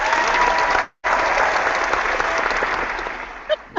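Sustained audience applause at a San Jose Sharks vs Edmonton Oilers hockey post-game broadcast, loud and steady, briefly cutting out near the second mark, then continuing with a faint voice near the end.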